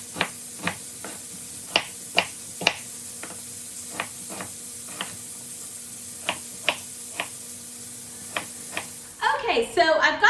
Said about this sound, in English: I am searing things up behind me